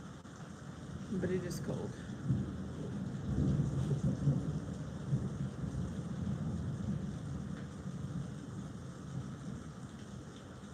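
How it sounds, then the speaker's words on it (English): Steady rain heard through an open sliding door, with low rumbling thunder in the background, while a person speaks briefly over it. "I have the sliding door open so you guys can hear the rain"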